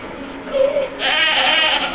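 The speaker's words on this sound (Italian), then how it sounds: "E queste pecore." Sheep in the video game Assassin's Creed 3 bleat, one short call followed by a longer wavering bleat, close and clear against quiet game ambience.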